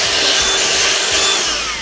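A Ryobi R18HV cordless workshop vacuum cleaner runs at full power, making a loud, steady airy whine with no one talking.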